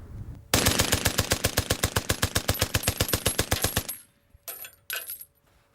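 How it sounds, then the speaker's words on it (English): A machine gun fires one sustained burst of evenly spaced rapid shots, about nine per second, loud and close, for roughly three seconds. It then stops, and a few short mechanical clatters follow. "So despite what you hear, it's discharging around 9 bullets per second."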